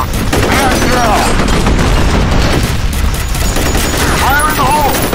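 In the F.E.A.R. Combat video game, a grenade explosion and heavy gunfire merge into a loud, dense, continuous roar of shots and booms, with voices calling out over the battle.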